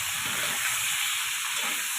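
Potatoes frying in a kadai with a little nigella seed, a steady loud hiss and sizzle with faint bubbling underneath.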